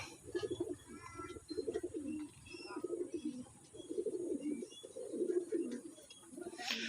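Pigeons coo in repeated soft, throaty bursts at a steady rhythm, close and fairly quiet, with a few faint chirps overhead.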